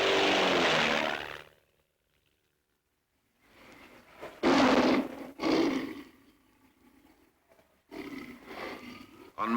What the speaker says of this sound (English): she took him for a spin in a plane